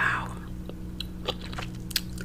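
Gum chewed close to the microphone for ASMR, with soft wet smacks and small crunchy clicks at an uneven pace over a low steady hum.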